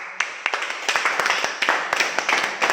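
A church congregation claps its hands in sharp, irregular bursts. The close, crisp claps sometimes fall into a loose rhythm.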